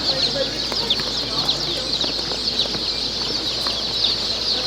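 Dense chorus of Star-Spangled Hamburg and other baby chicks at a hatchery, peeping continuously and shrilly in a steady, busy wash of overlapping high chirps.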